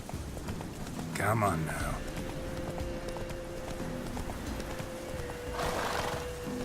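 Roach the horse in The Witcher 3 gallops with clear hoofbeats and lets out a loud neigh early on, while someone speaks briefly over it and a steady tonal hum runs underneath.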